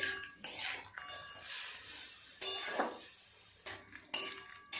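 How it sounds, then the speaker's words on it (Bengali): Tomatoes are stirred in a cooking pan for a winter chutney, producing intermittent scraping clinks of a utensil against metal in a loose rhythm, fairly quiet and close, with no voices. "টমেটোটা একটু খুব ভালো করে নেড়ে নিতে হবে এইভাবে"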